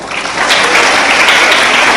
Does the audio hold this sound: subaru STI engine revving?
no